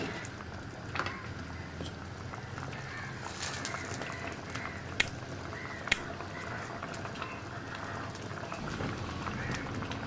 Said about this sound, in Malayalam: അപ്പോൾ ഇത് നമ്മൾ തൈര് ചേർത്തിട്ട് ഒരു 7 മിനിറ്റായിട്ട് നന്നായിട്ട് തിളച്ചുകൊണ്ടിരിക്കുകയാണ്.